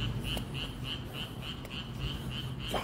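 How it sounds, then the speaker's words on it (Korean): Frogs calling outdoors by a station on an evening walk home, a regular pulsing run of about ten croaks over faint background noise, moderately close and with no voices. "야, 여기 개구리가 살고 있었구나."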